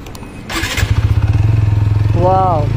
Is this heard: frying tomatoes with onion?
no